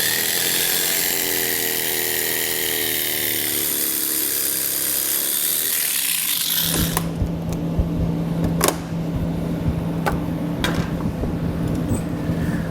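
Small power saw such as a rotary tool cutting plastic material from a car's front fascia, a high-pitched whine that changes pitch, then a steady hum with sharp intermittent cuts and clicks.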